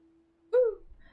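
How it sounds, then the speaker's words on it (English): A single short hiccup, close and sudden, with a brief voiced squeak after a faint steady tone, then quiet rustling. "I have hiccups."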